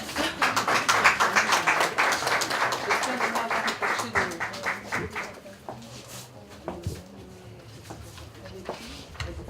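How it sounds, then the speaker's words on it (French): An audience at a Brazzaville public talk and discussion event claps for a mother; dense, close applause fills the first five seconds, then thins and fades as a voice begins speaking. "On peut applaudir la maman."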